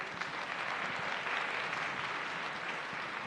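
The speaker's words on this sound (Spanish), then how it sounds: "Un aplauso," An audience at a lecture on the history and culture of tea in Japan applauds steadily, a dense, even wash of clapping that stays at a moderate, slightly distant level for a few seconds without a voice over it.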